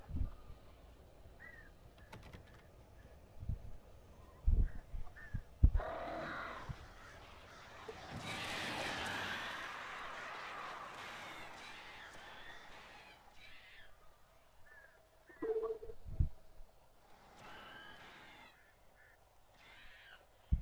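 Crows caw in the Alan Wake video game, several harsh calls scattered through the scene against a dark ambient background, with a stretch of loud wind-like noise.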